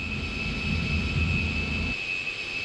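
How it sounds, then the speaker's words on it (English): Simulated Tupolev Tu-16 Badger twin-engine strategic jet bomber in Flight Simulator X, giving a steady loud jet engine roar with a thin high whine; the low rumble drops away near the end while the whine carries on. "NATO reporting name of Badger, twin-engine, strategic jet bomber."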